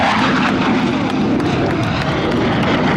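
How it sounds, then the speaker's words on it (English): Blue Angels jets in a four-plane formation pass over Pensacola NAS during an airshow, a loud continuous roaring engine rumble that fills the whole stretch. "watch as our 4-plane formation approaches"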